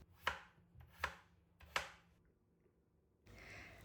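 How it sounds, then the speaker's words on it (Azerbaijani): Peeled potatoes being cut into large pieces with a knife on a cutting board: three sharp, evenly spaced chops ring out clearly in a quiet kitchen, followed by a soft rustling noise. "kartofu soyup iri formada doğrayıram"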